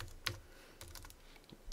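Keys on a computer keyboard tap out a short run of light, irregular keystrokes as a name is typed, quiet and close with no talking.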